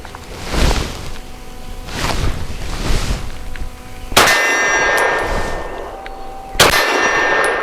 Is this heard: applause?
no